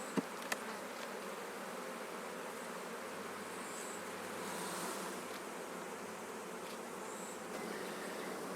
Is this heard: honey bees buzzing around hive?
yes